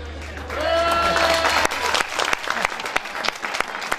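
An audience applauds at a show with a candidate performance, a dense clapping crowd that builds after half a second, loud and steady. A few voices and a tonal whine are mixed in at the start.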